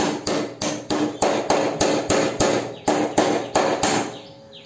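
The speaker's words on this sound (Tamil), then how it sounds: "அதே மாதிரி கீழ் கப்புலேயும் க்ரீஸ் வச்சுட்டு மேலேயும் கீழேயும் கோன் செட்டை மொத்தமாக அடிச்சிக்கலாம்." A cone set is hammered into the steering head of a Pulsar motorcycle during accident repair, about a dozen sharp, evenly spaced metal blows ringing close and loud, alone without talk.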